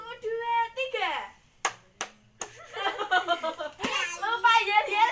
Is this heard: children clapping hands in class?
yes